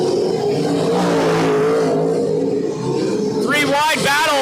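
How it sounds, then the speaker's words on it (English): Race cars running three wide on a dirt speedway, a loud continuous engine roar with rising and falling revs, a commentator talking over it throughout. "Dustin Strand making a move on Ward Emery, 3 wide coming out at turn 2 with the lap car"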